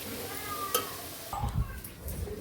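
Chicken pieces fry in hot oil for chicken pickle, a steady close sizzle broken by a brief stirring clatter partway through.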